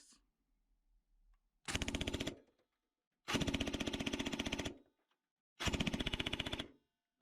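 Ares M45 CQB airsoft electric rifle firing three full-auto bursts in a rate-of-fire test, each a loud, rapid, even mechanical rattle lasting about a second, separated by short silences.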